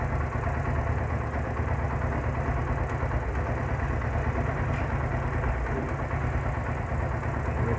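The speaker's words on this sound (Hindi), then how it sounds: "थोड़ी सारी रेस दे भाई, थोड़ी सारी, ज़्यादा नहीं देनी" A motorcycle engine runs steadily at low to mid revs in a repair setting during a headlight fault check. The rumble is continuous and fairly loud, with no distinct rev spikes.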